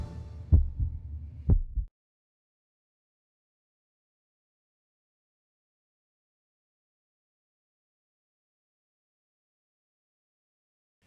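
Heartbeat sound effect from a hospital cardiovascular advertisement: a few deep, thumping beats in quick succession during the first two seconds, standing alone and followed by silence.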